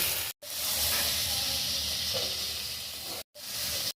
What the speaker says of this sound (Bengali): চিংড়ি মাছ ভেজে নেবো হলুদ নুনগুলো দিয়ে হালকা করে ভেজে নেব